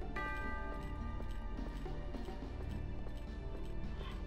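Steady rhythmic hoofbeats of a horse clip-clop along under continuous background music in the video game Desperados.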